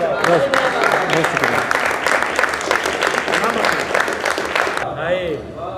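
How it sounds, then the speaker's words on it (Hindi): Audience at a book launch for a poetry collection breaks into loud, dense applause that carries on steadily for several seconds before cutting off abruptly near the end. "भरपूर तालियां"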